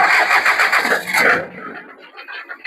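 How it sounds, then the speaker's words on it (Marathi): A 2016 Sonalika Garden Track 20 HP four-wheel tractor fires up on its self-starter, a close, loud chugging crank and catch that quickly drops to a quieter idle. "सेल्फ स्टार्ट ट्रॅक्टर आहे।"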